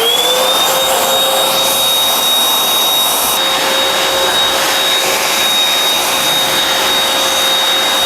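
A 1000 watt BDWD08 wet and dry vacuum cleaner with a brush attachment runs continuously, a loud, steady, close whine and rushing airflow with a slight pitch rise at the start and no talking.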